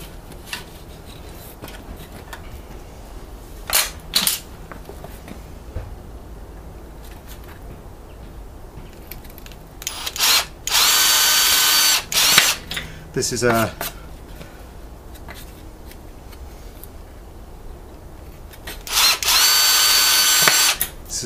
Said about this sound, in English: As we get our drill.